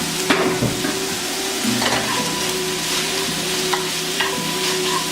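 Home-cooked black beans going into a hot pan, with steady stirring and sizzling plus a few scraping knocks, close and continuous with no talk.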